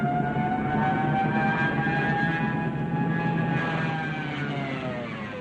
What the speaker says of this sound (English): There's also this terrifying siren noise.